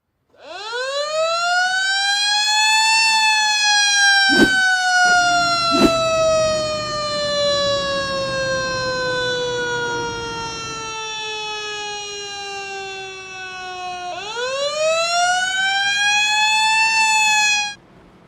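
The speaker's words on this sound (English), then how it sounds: "You heard the fire trucks leave the pit." Fire truck sirens in a racing video game wail loudly as the trucks leave the pit, a long rising and falling electronic tone that sweeps steadily for about eighteen seconds, with two sharp clicks early on and no talking.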